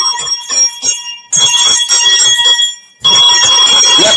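A boxing ring bell clangs in repeated bursts, loud and bright with ringing overtones, sounding three times with short gaps between.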